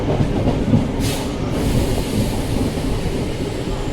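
A MEMU passenger train running between Tumakuru and KSR Bengaluru rumbles steadily on the rails with a continuous, close, heavy roar and no voices.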